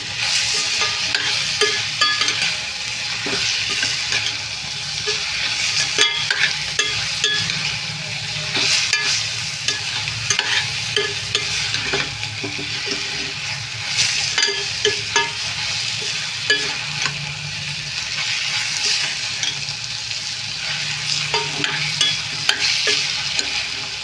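Onions frying with turmeric in a pan give a steady, dense sizzle throughout, broken by frequent scraping stirs, with no talking.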